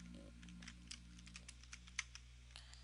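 Computer keyboard typing a command while exploring a Christmas game world, a quick irregular run of light clicking keystrokes over a low steady hum, no voices.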